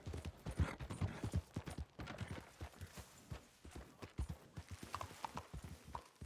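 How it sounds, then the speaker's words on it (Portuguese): Hooves of a horse in Red Dead Redemption 2 clatter in a fast, uneven clip-clop gallop, close and steady throughout, with a brief whinny-like sound near the end and no talking. "Não tô conseguindo controlar o cavalo"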